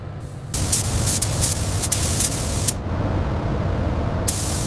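High-temperature primer is sprayed onto a Lexus LX470 V8 engine in a restoration shop. A steady, loud aerosol hiss is broken by short spray bursts, with the sound alone and close.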